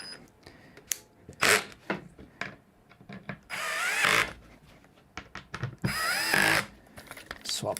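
A power tool drives screws into Ikea furniture in short bursts of whirring, several quick runs with pauses and clatter between them, alongside some talk.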